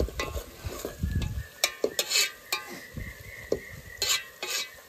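Curry leaves crackle and sizzle in hot oil in a pot for an outdoor chicken curry, with scraping stirs and clinks of a spoon against the pan in uneven bursts.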